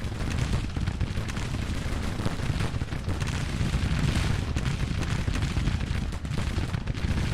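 Massed musket volleys from several Civil War regiments on a firing line in the Grand Tactician strategy game form a dense, continuous roar of crackling gunfire throughout, loud and unbroken with no clear individual shots.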